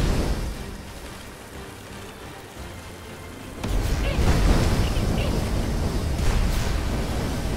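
A steady hiss of rain in the video game Magicka, subdued at first, then growing noticeably louder and denser partway through, with a constant wash of patter throughout.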